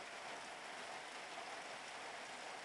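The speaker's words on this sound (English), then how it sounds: "There's the rain coming down." Steady rain pouring down in the New Mexico mountains beside a wraparound house porch, a continuous dense hiss that holds even throughout with no talk.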